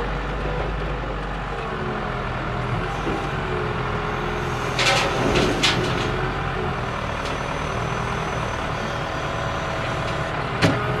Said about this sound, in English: First scoop in the new trailer.